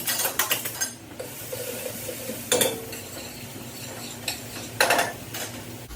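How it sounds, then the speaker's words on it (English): Vegetables are stirred in a pot over sizzling heat, with a spoon scraping and clattering against the metal in several sharp bursts over a constant frying hiss. "I want to stir my vegetables."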